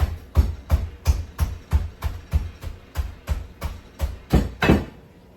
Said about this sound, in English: I'm going to use this again, the hammer, the rubber hammer, to chop it in half.